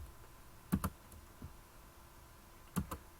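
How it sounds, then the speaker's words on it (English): A few separate keystrokes on a computer keyboard, like someone entering a school email address. The soft clicks come in two small pairs over a quiet background, close by and unhurried. "You're going to type in your school email."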